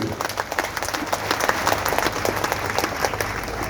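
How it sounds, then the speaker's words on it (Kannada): Loud, dense audience applause at a Yakshagana performance, steady rapid clapping from a large crowd sustained throughout, close and continuous with no break. "ಇಪ್ಪತ್ತೈದು ವರ್ಷ ಜೋರಾದ ಕೈ ಚಪ್ಪಾಳೆ ಬೇಕು"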